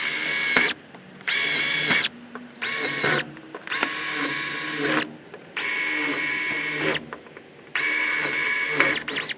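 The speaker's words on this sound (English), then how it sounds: "we're going to take our drill with our stop with the 3/16 drill bit, and we're going to drill out all 6 of these holes" Power drill fitted with a stop and a 3/16 bit bores out six rivet holes holding a mounting bracket to a trailer nose, in loud close whirring bursts separated by brief pauses, about six runs in all.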